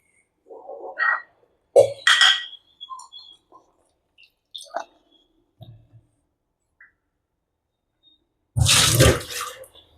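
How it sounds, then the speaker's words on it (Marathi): Eggplants being rinsed clean by hand in water for a bharit recipe, scattered soft splashes and drips with near silence between them, ending in a louder burst of running or sloshing water close by, no talking. "आपण स्वच्छ धुवून घेऊयात."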